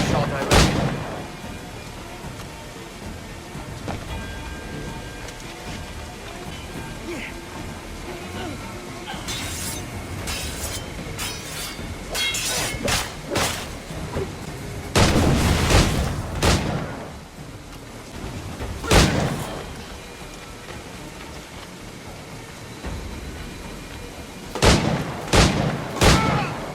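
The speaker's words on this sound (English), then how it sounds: "No man immune to a pistol shot, I reckon." Pistol gunshots in Assassin's Creed IV Black Flag, loud sharp cracks scattered irregularly, some single, some in quick clusters, over a low ambient bed with occasional voices.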